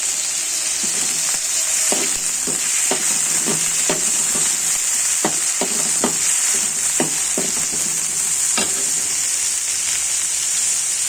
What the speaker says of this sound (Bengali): তাহলে আমি মাছগুলি ভেজে নিব